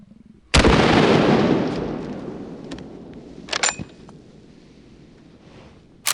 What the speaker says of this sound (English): This is my Rossi Ranch Hand lever action 44 Magnum.